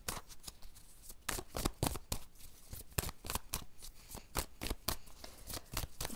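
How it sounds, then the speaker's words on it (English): Tarot cards being shuffled by hand: a steady run of crisp, papery riffles and flicks, close and fairly quiet, lasting several seconds with no voice over it. "Let's get some more cards."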